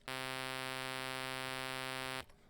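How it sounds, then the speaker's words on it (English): A steady square wave synth tone holds at one pitch for about two seconds, bright and buzzy with a dense stack of harmonics, then cuts off abruptly into near silence. "I've got a square wave just here."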